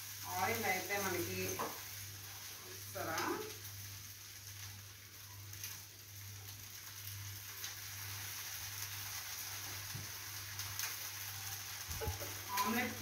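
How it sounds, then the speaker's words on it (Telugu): Black gram dosa frying in oil on a pan gives a steady, faint sizzle with a low hum beneath, while someone talks briefly at the start and near the end. "నెక్స్ట్ చూడండి ఎంత బాగా వేగిందో"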